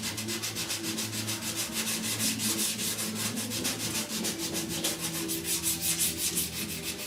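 Steady, rhythmic rasping of a sanding block with 180-grit paper rubbed back and forth by hand over primer on a 1969 C10 roof, continuous and close, with no talking.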